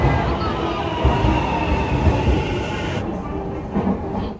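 An Osaka Metro subway train runs with a steady, loud rumble and rattle throughout, its tone changing partway as the train moves along, with no talk.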